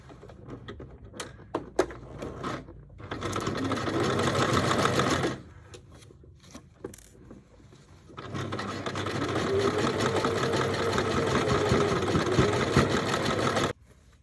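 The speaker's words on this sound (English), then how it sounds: "now I'll need to sew about 6 millimeters from the edge" A sewing machine stitches a 6 mm hem on linen shorts in two long, steady bursts of rapid mechanical whirring, separated by quieter pauses with light handling clicks.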